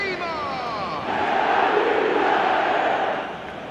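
A stadium crowd in the eFootball video game roars in a steady, loud wash of cheering that swells after the first second and eases toward the end.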